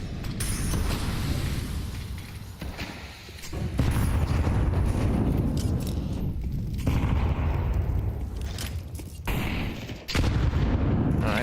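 Counter-Strike 2 rifle gunfire crackles in dense, repeated bursts during an esports match, with loud overlapping shots and mechanical clatter filling most of the stretch, broken by brief lulls.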